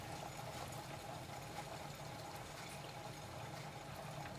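Water boiling on a heat source, a faint, steady hiss and low rumble that holds level throughout with no voices.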